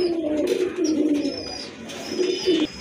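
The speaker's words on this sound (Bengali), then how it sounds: "এই যে দেখেন কবুতর জোড়া" Soft, low coos from a pair of khaki racing pigeons repeat in a steady rolling rhythm close by, with faint high bird chirps in the background and no talking.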